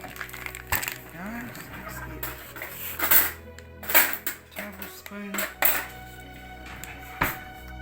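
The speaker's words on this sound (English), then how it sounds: "So let's mix the bananas first" Clinking of a utensil scraping and knocking against a bowl while bananas are stirred and mashed for banana cake, with occasional pings of metal on ceramic.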